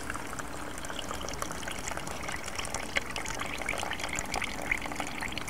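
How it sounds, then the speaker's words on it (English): Water drains off soaked fishing bait pellets in a steady, close trickling pour that runs for a few seconds without pause, with no talking. "and completely drain the pellets"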